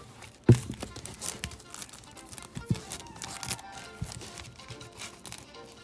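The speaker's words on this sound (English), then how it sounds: "If I was to remove one bag, does that make it easier?" Plastic bags holding trading cards crinkle and rustle in a card shop as one sleeve is pulled off, with a sharp crackle near the start and softer scattered crinkles after.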